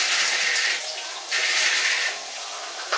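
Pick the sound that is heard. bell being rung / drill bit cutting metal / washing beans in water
washing beans in water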